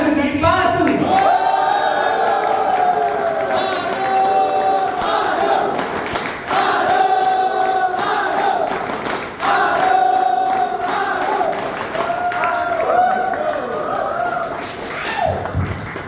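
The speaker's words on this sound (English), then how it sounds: "thank you so much for all the cheering" An audience at a Toastmasters anniversary meeting cheers, claps and taps continuously, loud and close throughout, with voices mixed into the crowd noise.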